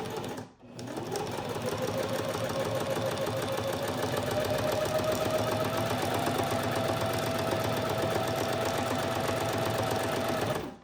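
A sewing machine stitches steadily and close up for about ten seconds after a brief pause, doing a short back stitch on a traveler's notebook pocket, with a continuous mechanical whir and rapid needle clatter.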